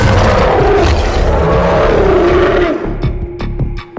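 A loud, deep lion roar rumbles for a few seconds, then trails off into a few short thuds and clatters.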